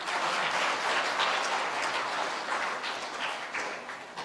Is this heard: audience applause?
yes